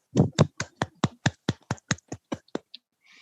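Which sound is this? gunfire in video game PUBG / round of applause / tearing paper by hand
round of applause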